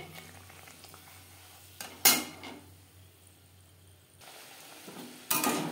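Pea-filled kachori frying gently in oil over moderate heat, a steady soft sizzle with a few sharp bursts of louder crackling and clinks of a utensil against the pan.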